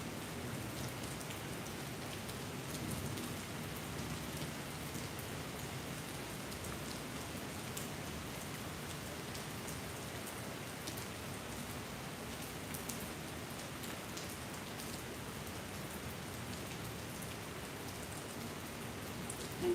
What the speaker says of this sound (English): listening to the rain around us.